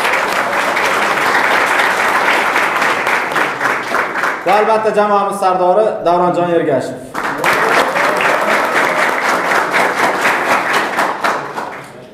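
An audience at a football club's new-season team presentation applauds in a dense, loud burst of clapping, pausing briefly while a voice speaks over a microphone, then resuming strongly.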